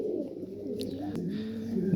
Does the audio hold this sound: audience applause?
no